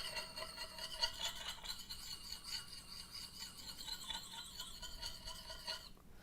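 A blade is rubbed against a sharpening plate in a spiral pattern, making a continuous faint, gritty rasping scrape that rises and falls in rhythmic strokes, close up with no talking.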